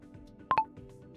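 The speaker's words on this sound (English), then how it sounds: "Gotta wait for the beep." Two quick electronic beeps close together, clear and fairly loud over quiet room noise.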